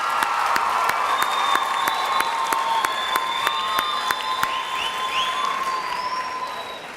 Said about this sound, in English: How about another round of applause for the great actors and steppers,